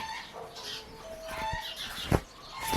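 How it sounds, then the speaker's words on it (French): Several hens cluck and squawk in a busy, irregular chorus nearby in a chicken run, with one sharper outburst partway through. "si tu entends les poules cacailler"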